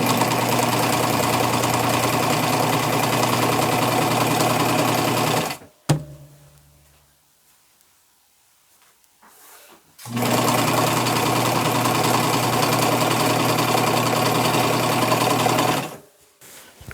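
A sewing machine runs loud and close while stitching fabric for a braided boho beach dress, two long continuous runs broken by a few seconds of near silence, with no voices.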